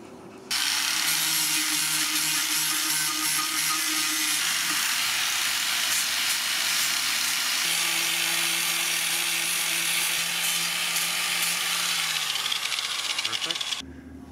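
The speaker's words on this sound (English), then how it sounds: "we're gonna just do a little bit of sanding right over here on some fiberglass damage on the sidecar" Continuous power sanding on fiberglass damage on a boat sidecar, a steady close, loud whirring grind with a tonal motor hum that shifts pitch partway through, running almost the whole time before cutting off near the end.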